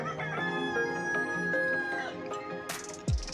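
A rooster crows nearby in a long, wavering cock-a-doodle-doo at a livestock fair, with faint clucks and farmyard noise around it.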